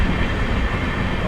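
Aboard the Palnadu SF Express with LHB coaches between Guntur and Secunderabad, a dense, steady rolling roar of the running train fills a brief moment, loud and close, with no voices.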